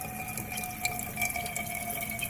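Pasta water is poured from a cooking pot into a container in a home kitchen, a steady, fairly close splashing trickle that runs on without a break and with no talking.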